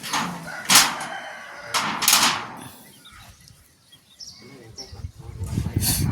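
A rooster crows loudly twice in quick succession, with chicken clucks and farmyard rustling following, no talk.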